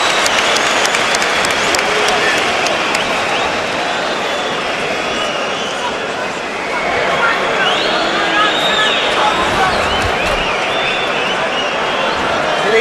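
Boxing crowd on its feet cheering and applauding during the Joe Calzaghe vs Mikkel Kessler fight: a dense, loud, continuous roar of clapping and shouting that swells and dips slightly, with a voice speaking over it.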